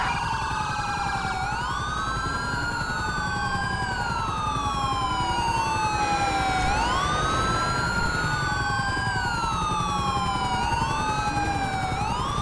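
An ambulance siren in the Grand Theft Auto 5 video game wails and yelps in repeating rising and falling sweeps, loud and continuous over faint traffic rumble, with no voices.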